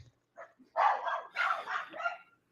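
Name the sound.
dog barking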